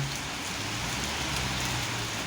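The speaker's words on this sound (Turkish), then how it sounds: "Bir ara tekrar yağmur başladı." Steady rain falling and pattering on a surface, a constant wash of noise with no voices.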